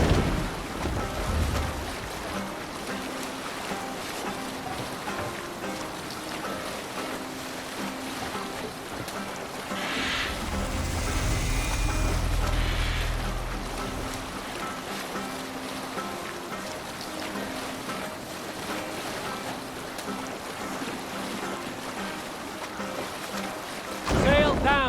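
A ship sails across the open sea in Assassin's Creed Valhalla, with steady wind and washing waves running throughout and a swell of rushing water midway, under occasional talk.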